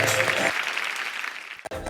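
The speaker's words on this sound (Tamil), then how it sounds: "ஒரு பெரிய கைத்தட்டல் for Shobana once again" Applause from the audience at an awards show prelude breaks out for Shobana, a dense wash of many hands that starts full, softens, briefly cuts out and then swells back.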